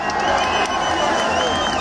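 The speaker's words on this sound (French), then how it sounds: "Applaudissez la Côte d'Ivoire." A crowd at a street rally in Paris supporting Mali cheers and applauds, a dense, steady roar of clapping and shouting voices throughout.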